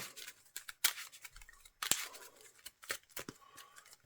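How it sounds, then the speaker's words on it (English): Board game cards for a She-Hulk match being shuffled by hand at close range, giving brief papery riffles and snaps in short bursts with small pauses between them and no talk over them. "Shuffle this up."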